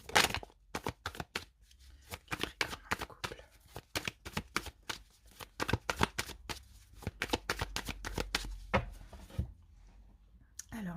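A tarot deck is shuffled and cut by hand, producing many rapid, close card riffles and slaps in uneven bursts, with quiet gaps and soft handling between them.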